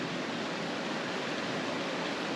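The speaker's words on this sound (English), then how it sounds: "we have a backed right up against the creek, so we'll have that nice rushing water all night" A creek rushes beside a campsite at a backcountry campground on the Nevada route, a steady, loud, broadband wash of flowing water with no break and no voices.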